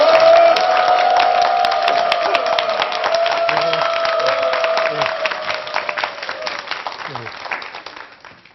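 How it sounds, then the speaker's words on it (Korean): A studio audience applauds warmly to welcome a lawyer onto a Korean TV lecture stage, with steady dense clapping that starts loud and gradually thins toward the end. "큰 박수로 모시겠습니다"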